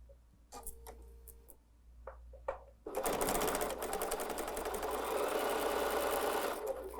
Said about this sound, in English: Let's just go sew that together.